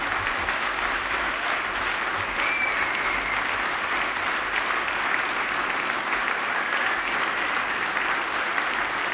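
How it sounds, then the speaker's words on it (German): Sustained applause from a large audience at the BigBrotherAwards ceremony, a thick, unbroken roar of clapping that holds steady for several seconds in a big room. "der Applaus muss ein bisschen länger anhalten"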